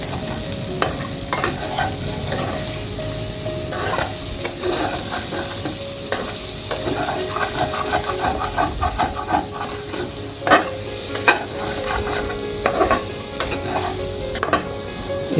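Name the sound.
stirring fish head with spices in pan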